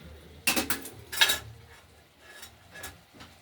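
Cabbage being stirred in a lidded kadai (wok) while cooking with potatoes and peas: two loud bursts of scraping and clattering utensil against metal, then quieter intermittent clinks, close up with no talking.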